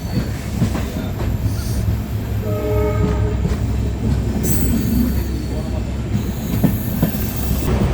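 A passenger train on the Mayiladuthurai to Karaikudi line rumbles along steadily with wheel clatter and squeal, a horn sounding briefly, all loud and close throughout.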